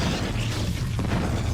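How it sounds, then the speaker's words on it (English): Reaver attack sound from a StarCraft custom map, a deep, rumbling boom that carries through the whole short clip with a dull thump near the middle. "it's the Reaver attack sound, but still"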